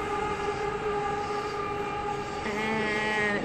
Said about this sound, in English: Sorry, that's a train.